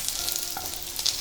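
Slit green chillies frying in hot oil in a pan, a continuous close hissing sizzle with small crackles, no voices.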